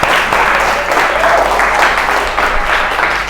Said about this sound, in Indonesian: Kasih tepuk tangan dulu untuk Alfian.